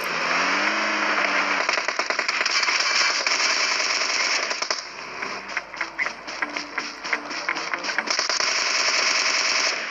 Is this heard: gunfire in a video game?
yes